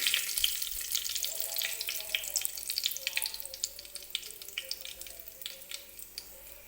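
Black pepper, cinnamon and bay leaf frying in hot oil, with a steady close sizzle and small crackles and pops running throughout, no talking.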